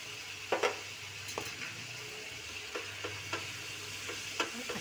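Cream being stirred into a simmering matar paneer gravy in a pan, with a faint sizzle underneath and a handful of sharp spoon clinks and scrapes against the metal at irregular intervals, quiet overall.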